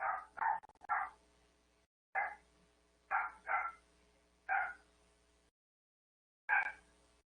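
Several neighbouring dogs bark in short bursts of two or three, with pauses between volleys, sounding a little distant and fairly quiet.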